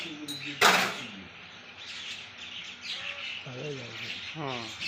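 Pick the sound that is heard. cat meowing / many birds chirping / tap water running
many birds chirping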